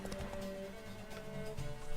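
A horse gallops in The Witcher 3: Wild Hunt, its hoofbeats drumming rapidly and evenly under a steady game tone, moderately close and with no talk.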